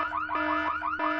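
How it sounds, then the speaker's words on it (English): A motorcycle alarm in the Full Throttle adventure game wails in a fast repeating rising siren pattern, four or five cycles in quick succession, loud and alone. "as soon as I touch this, I know the alarm is going to sound."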